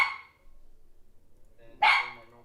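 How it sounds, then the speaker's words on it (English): A pet dog barks once or twice nearby in a quiet room, a short loud bark followed by a softer second one, with no talking. "And that's my dog, Sydney."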